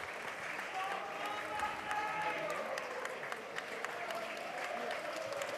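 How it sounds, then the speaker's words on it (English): Gateshead fans at a pre-season football friendly against South Shields applaud a substituted player, a steady, distant wash of clapping across the stand, fairly faint, with commentators talking over it. "nice to see Aaron Campbell get a nice round of applause from the Gateshead fans"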